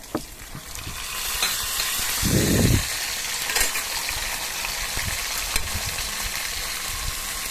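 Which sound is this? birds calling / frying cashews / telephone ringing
frying cashews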